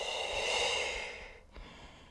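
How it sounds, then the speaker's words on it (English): A single long exhale during a yoga breathing exercise, a soft airy breath that swells and then fades, close and alone without talk. "Last round, inhale. Exhale. Inhale."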